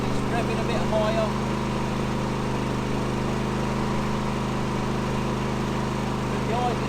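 A Senci SC8000i 7kW silenced inverter generator runs under load, a steady close droning engine hum with a buzzy tone that holds level throughout, with someone talking over it.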